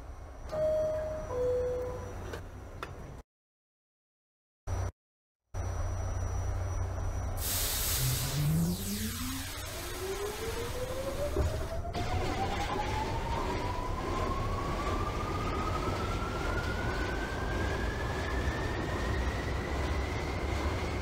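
An R46 C subway train in the OpenBVE simulator sits with a low hum through a couple of silent gaps, then releases a sharp hiss of air and pulls away as a traction motor whine climbs steadily in pitch.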